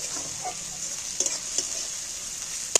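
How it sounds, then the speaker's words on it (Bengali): Garlic and ginger sizzle steadily in hot oil in a pan while being stirred, with a continuous bright frying hiss and a few sharp scrapes and clinks of the utensil against the pan. "রসুনটা একটু ভাজতে হবে"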